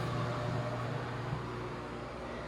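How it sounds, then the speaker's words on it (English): A bathroom exhaust fan runs with a steady, even whir and low hum, close by and constant throughout, with no voices. "You can hear the exhaust fan there going."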